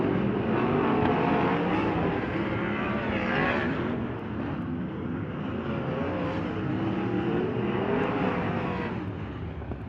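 Race cars lap Ventura Raceway during a late hot lap session, engines roaring continuously and loudly, with pitch sweeping as cars pass, no talk.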